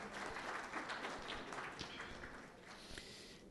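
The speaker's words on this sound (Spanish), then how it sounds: "se les pide fuertes aplausos de su participación" Applause from a conference audience at an education policy plenary session, a steady, fairly quiet wash of many hands clapping for several seconds with no talk over it.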